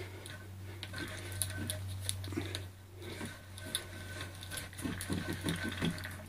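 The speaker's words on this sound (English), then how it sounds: "this is an XY table" A motorised XY table for milling a guitar neck whirs and ticks with irregular small mechanical clicks and a steady low hum, close and fairly quiet.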